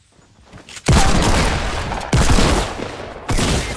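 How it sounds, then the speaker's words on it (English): Sustained bursts of automatic gunfire in the Fortnite Battle Royale video game, three loud, dense volleys close to the player, separated by brief breaks and with no talking. "Somebody shooting me!"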